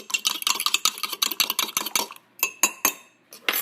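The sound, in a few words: beating eggs in a bowl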